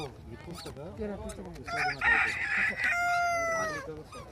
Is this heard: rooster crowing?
yes